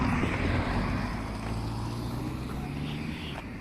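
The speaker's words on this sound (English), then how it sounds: "The traffic is actually pissing me off" Distant traffic rumbles steadily through a neighborhood, a low continuous drone with some wind noise on the microphone and no clear individual vehicles.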